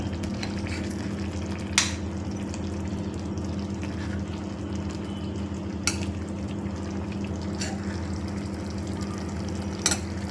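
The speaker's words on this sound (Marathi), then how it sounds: "आता आपण वरून त्यात दही टाकतोय। आता मस्त एकत्र मिक्स करून घेतोय।" A spoon stirs curd into a dhaba-style gravy of peas, potato and capsicum. A faint, steady simmering hiss runs throughout, with a few sharp clicks of the spoon against the pot spaced seconds apart.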